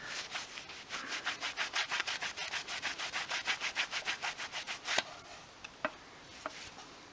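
Rapid rhythmic rubbing as a Nissan number plate light lens is polished by hand, about two dozen quick even back-and-forth strokes, close and fairly quiet, followed by a few scattered taps.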